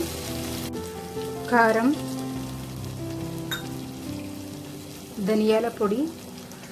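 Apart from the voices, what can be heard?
spices frying in a pan for palak paneer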